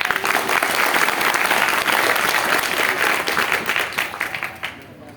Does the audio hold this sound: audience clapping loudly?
yes